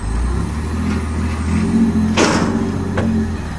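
A 1986 Pontiac Fiero V6 idles with a loud, close, low rumble, then gives a brief engine surge and a short hissing burst as it pulls away, with another lighter hiss moments later; no talking.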